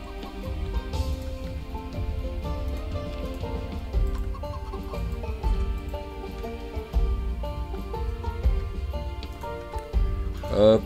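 Hens clucking in Project Zomboid, repeated soft clucks and calls from a small flock set over a steady bed of music and ambient game sound, fairly close and continuous.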